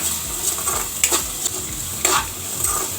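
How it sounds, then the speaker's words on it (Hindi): Onions with salt frying in a pan while being stirred, with a steady sizzle and a few sharper scraping strokes of the spoon, near and without speech. "अब हम इसमें नमक स्वाद अनुसार डाल दे रहे हैं जिससे प्याज अच्छी तरह से पक जाएगा। इसको अच्छी तरह से मिक्स कर ले हम।"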